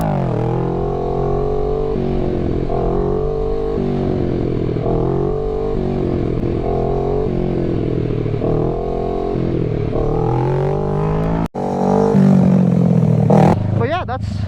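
A Kawasaki Ninja 650 motorcycle engine drones steadily as the bike coasts in a wheelie, then a sudden jolt and a louder rough rumble follow as the front drops back down. Speech is heard over the engine.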